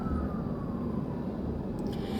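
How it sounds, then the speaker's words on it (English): Ambulance and police sirens pass outside a car, a faint wailing tone sliding slowly downward beneath loud, steady road rumble, with no talking. "here comes some ambulances. Police."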